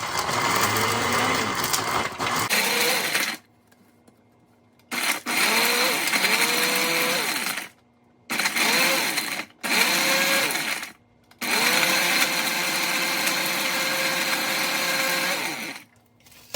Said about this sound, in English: we're gonna add it to our blender